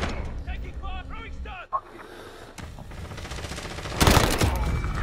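Gunfire from Call of Duty: Modern Warfare multiplayer, a burst of shots and a heavier blast near the end, mixed with game sounds and voices talking over it.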